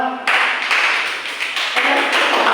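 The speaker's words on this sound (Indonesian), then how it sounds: "terima kasih dari kelompok 1, silakan tepuk tangan" Applause for the first student group in an Islamic education teaching-methods class: a sustained burst of many hands clapping across the room, fairly loud and steady, with no voices over it.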